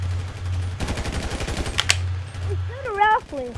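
Rapid machine-gun bursts of gunfire from the video game GTA V, dense and loud through the first two seconds over a steady low engine hum, then a sharp report before a whistling, sweeping sound rises at the end.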